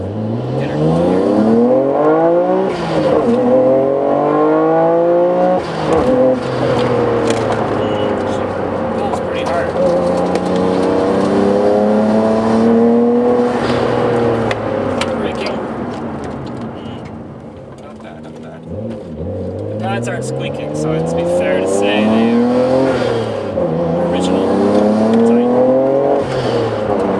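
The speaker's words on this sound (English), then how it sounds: "Not too hard of a launch, just get her going here." A 1995 Nissan Skyline GT-R Spec V with Ohlins, Blitz and HKS parts pulls away from a gentle launch, its engine rising loudly through the gears with repeated shifts and a brief easing off midway.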